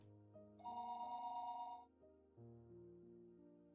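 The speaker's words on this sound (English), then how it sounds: "The phone rang noisily downstairs." Telephone ringing in the visual novel Higurashi When They Cry, a clean electronic ring tone sounding in two bursts with a short gap, fairly quiet and alone with no talking.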